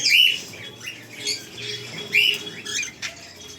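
A pair of cockatiels, an albino pearl pied female and a white face male, let out shrill squawks and chirps in short bursts, fairly near and unaccompanied by any voices.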